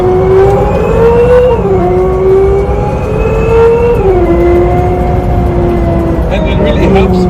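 A Hyundai RN22e electric car drives hard on a race track with synthetic gear shifts, a loud continuous whine that climbs and then drops at each shift, close and steady throughout.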